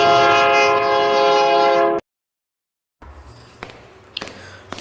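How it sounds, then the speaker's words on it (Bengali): A train pulls into a station at night in stormy, rainy weather. A loud, sustained horn blast is followed by a short silence, then a quieter rumble with scattered clanks and knocks. "তখন 8টা 15 ট্রেন এসে ঢুকলো স্টেশনে।"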